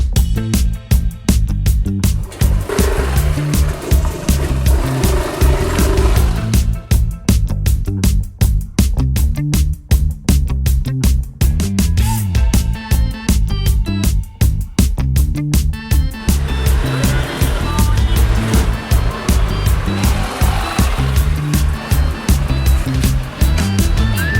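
A motorbike rides through the streets of Canggu, Bali, its engine and road noise steady and loud throughout with a rumbling low drone and broad rushing hiss, no one speaking.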